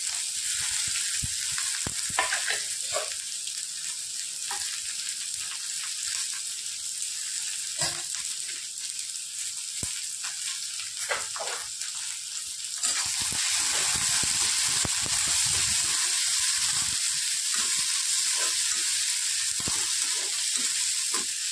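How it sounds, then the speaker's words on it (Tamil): Two chopped large onions frying in hot oil with fennel seeds for mutton gravy, a loud continuous close sizzle with occasional stirring scrapes, the hiss swelling brighter partway through. "வெங்காயம் நல்லா வதங்கட்டும்."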